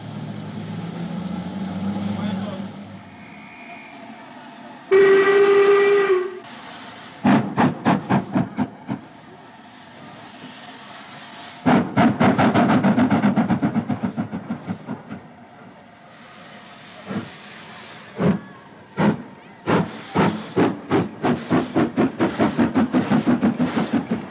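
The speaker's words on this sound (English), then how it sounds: "Our locomotive is another ex-LMS Black 5, dating from 1937" An ex-LMS Black 5 steam locomotive built in 1937 sounds a brief clear whistle, then chuffs in rapid rhythmic bursts of exhaust with hissing steam, loud and close, the beats coming in repeated runs.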